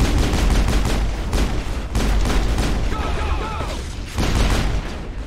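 Gunfire breaks out in a Mass Effect firefight: loud, dense bursts of shots and impacts with booming hits that keep on steadily, while voices talk over the battle.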